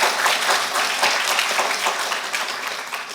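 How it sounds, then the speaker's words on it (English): An audience at a conference's opening remarks claps together in dense, steady applause that stays loud for a few seconds without talk over it. "I think we have to all applaud them."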